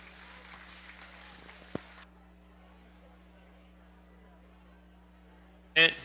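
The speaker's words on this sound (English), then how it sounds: "So please give them both a round of applause." Brief applause from the audience at a Washington County Fair 4-H and FFA dairy cattle show ring, a soft patter of clapping for about two seconds that stops abruptly, leaving a steady low hum.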